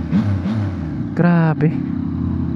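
Yamaha big bike engine revving with a deep, thick idle rumble, one sharp rev burst rising and falling near the middle, while someone speaks over it close by.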